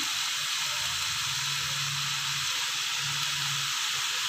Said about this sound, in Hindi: हम दही के साथ इन सब्जियों को थोड़ी देर के लिए भूनेंगे